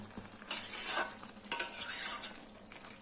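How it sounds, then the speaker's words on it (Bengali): Pui mitoli curry, a Bengali dish of Malabar spinach, cooks in a pan over a medium flame. Several distinct scraping stirs sound over a quiet sizzle, with pauses between strokes. "মাঝে মধ্যে একটু নেড়ে চেড়ে তরকারিটা আর একটু শুকনো করে নেব"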